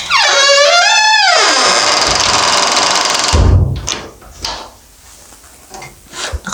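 A kitchen door in a quiet early-morning house creaks loudly with a long rising-and-falling squeal, then bangs shut with a heavy thud followed by softer knocks and rattles.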